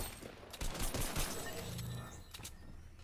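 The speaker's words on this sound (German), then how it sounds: "Jan, der schießt einer mit dieser Waffe, geh da raus" A weapon firing in the video game Fortnite, a dense run of sharp shots and crackling impacts with one heavier volley near the start, fairly loud and mixed with other game effects.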